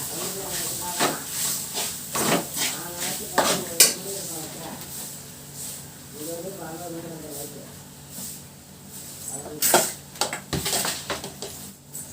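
Grated coconut being stirred in a cooking pan for coconut rice, with a handful of scraping, clinking utensil strokes and a soft sizzle, while a person talks over it.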